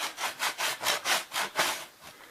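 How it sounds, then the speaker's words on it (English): Rasp scraping the rough snapped edge of 5/8 sheetrock drywall in about nine steady, rhythmic strokes, each a broad gritty rasp, close and clear with no talking. "Rasper tool works. It just takes the roughness off this."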